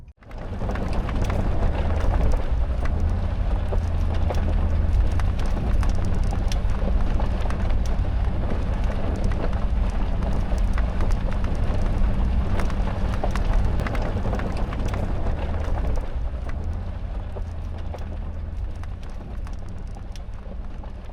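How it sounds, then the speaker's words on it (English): A car driving off-road over a rough, bumpy dirt road with an ebike mounted on a single hitch rack, giving a continuous rumbling drone packed with rattles and knocks throughout, with no speech. "We're gonna do a little off-roading and see how well my bike holds up while we're driving on the rough terrain."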